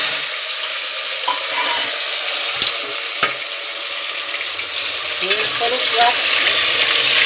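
Potatoes and salt go into hot oil in a frying pan while stuffed brinjal is being cooked, bringing a steady close sizzle with a few sharp clicks and taps of a utensil. There is no talking.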